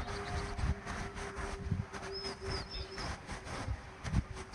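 Bird calls outdoors, a few brief high chirps in the middle of the clip, faint against low traffic rumble and ambient noise.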